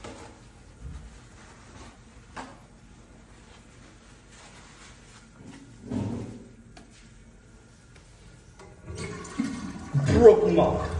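A toilet flushing in an all-gender restroom at a shopping mall, rising into a louder rushing surge near the end after quieter shuffling and brief handling noises.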